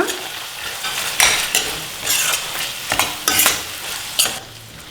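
Chopped coriander and mint are stirred into a hot pan for a tomato rice dish, giving a steady sizzle broken by several sharp scraping strokes of a spoon against the pan, close and fairly loud, with no talking.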